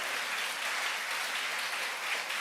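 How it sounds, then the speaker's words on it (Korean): A church congregation claps together in sustained, dense applause during a sermon, a steady wash of many hands at moderate loudness with no talking over it. "우리 주님께 영광의 박수 한번 올려드립니다."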